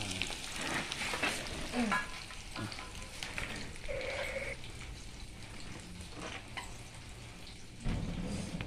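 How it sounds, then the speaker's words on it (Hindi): Tadka tempering sizzling in a pan, a steady frying crackle with occasional stirring scrapes over several seconds, with faint background sounds. "और ये तड़का लग चुका है।"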